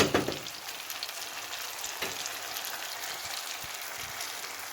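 A spoonful of butter sizzles in a pot of tomatoes and peppers, starting with a sharp burst and settling into a steady, even crackling hiss, close and alone.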